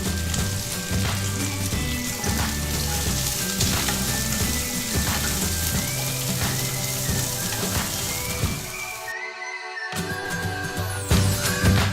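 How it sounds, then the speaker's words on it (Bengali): Chopped carrot, beans and capsicum fry in a pan with ginger and garlic, giving a steady close crackling sizzle with stirring scrapes, briefly cut out near the end before resuming. "সবজিগুলো আমার ভাজা ভাজা গেছে"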